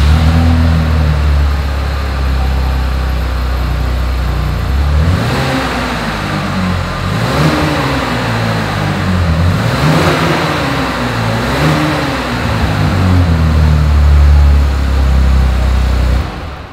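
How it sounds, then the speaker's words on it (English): A 2020 Chevrolet Blazer SUV engine idles with a deep exhaust rumble, then revs several times in rising and falling swells before settling back, loud and close. "As always, here is that exhaust clip."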